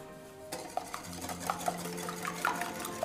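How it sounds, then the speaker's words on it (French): Eggs whisked with sugar in a bowl make a soft, close clatter of quick scraping strokes with small sharp taps of the whisk against the bowl, quiet and alone. "je fouette les œufs"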